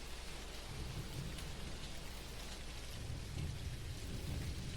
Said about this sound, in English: I don't know that I've heard thunder in this game yet.